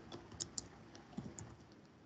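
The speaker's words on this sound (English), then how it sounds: "So let me just type Milton Friedman." Typing on a computer keyboard: a quick run of faint, irregular key clicks over about two seconds, close but quiet, with no speech.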